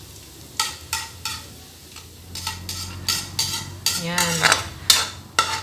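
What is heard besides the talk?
garlic frying and being stirred in a pan for fried rice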